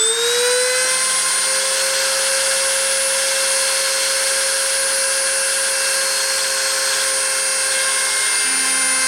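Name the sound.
spindle motor running during deposition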